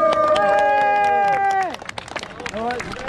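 A crowd cheers and claps at the finish of a running race at the Hohburg quarry run. Dense close clapping and voices surround a sustained horn-like tonal blare that fades after a second and a half.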